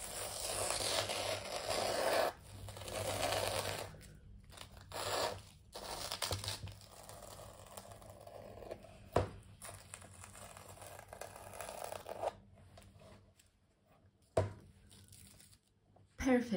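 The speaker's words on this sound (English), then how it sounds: "let's take these tapes off" Tape being peeled off the edges of a fluid-art wave painting, intermittent close tearing and crinkling strips with quiet gaps between pulls.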